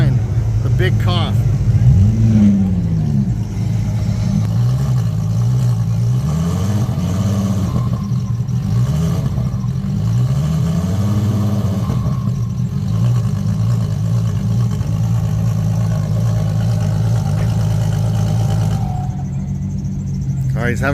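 A race car engine revs and drops repeatedly in uneven surges, struggling to shift gears, with a steady engine drone throughout.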